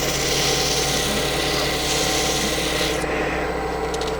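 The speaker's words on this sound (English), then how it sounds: "this is all the sanding you really need to do to this piece" Steady abrasive rubbing of sandpaper against a wooden quaiche bowl on a lathe, continuous and close, with a constant hum of machinery underneath and no pauses.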